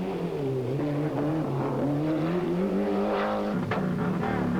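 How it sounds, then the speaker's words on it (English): A Ford Escort Cosworth rally car with a semi-automatic sequential gearbox races on a Tour de Corse stage, its engine droning loud and steady with pitch rising and falling through gear changes. "Bruno Thierry in the Ford Escort Cosworth, using brand new semi-automatic sequential gearbox in his Escort and running in 6th position."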